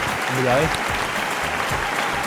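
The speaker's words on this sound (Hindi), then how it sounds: "तालियां बजा दें अपने।" Studio audience clapping on a quiz programme, a broad wash of applause heard close, with a voice speaking over it near the start.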